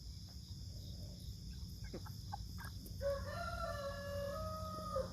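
An American Bresse cockerel crows partway through, a clear, fairly close call of several drawn-out tones over a soft background hum, with a few faint clucks and chirps before it.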